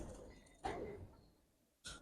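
Giribaz pigeons in a loft give a few short cooing calls, with two brief, fairly close bursts separated by quieter background rustle.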